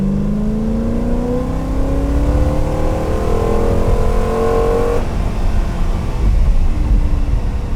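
A one-of-one factory original Aston Martin Lagonda Vantage revs hard, its raw, angry engine note climbing steadily in pitch through the rev, then cutting abruptly to a lower rumble, loud and close.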